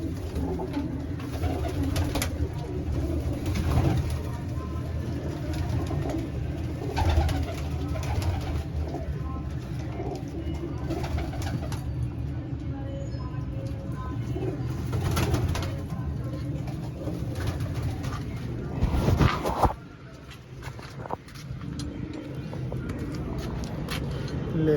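Pigeons cooing in a flock, with low, continuous overlapping coos and rustling throughout, close and fairly loud, with a brief dip near the end.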